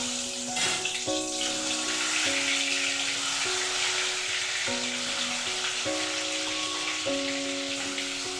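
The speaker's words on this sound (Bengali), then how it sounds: "তেল গরম হয়ে গেছে, এবার ডিমগুলো দিয়ে দেবো।" Eggs sizzle steadily in hot oil for a spicy egg curry, a continuous frying hiss with light crackle running throughout under soft tonal background music.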